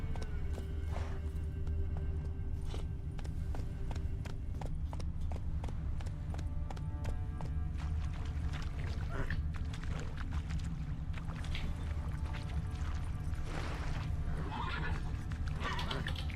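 A horse in The Witcher 3 gallops with rhythmic clip-clopping hooves and lets out several whinnies, fairly quiet and with no talking.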